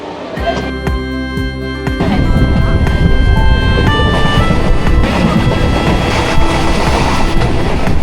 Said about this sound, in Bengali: এই যে ট্রেন ছাড়ছে, একদম এক্স্যাক্ট টাইমে আমাদের ট্রেনটা ছেড়ে যাচ্ছে শিয়ালদা স্টেশন থেকে।